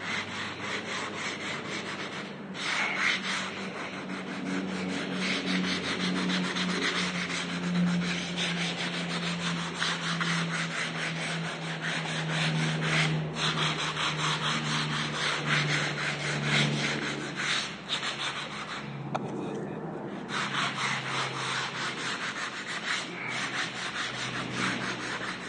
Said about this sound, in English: you gotta sand along the way